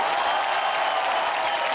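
An audience applauding at a Bollywood entertainment event, a dense, steady wash of clapping that fills the whole moment without breaks.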